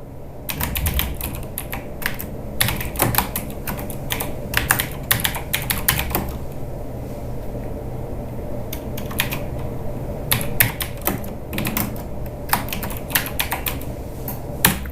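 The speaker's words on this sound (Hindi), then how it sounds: "हम यहाँ टाइपिंग शुरू कर सकते हैं।" Typing on a computer keyboard, quick irregular bursts of close, crisp key clicks with short pauses between runs, over quiet room hum and no talk.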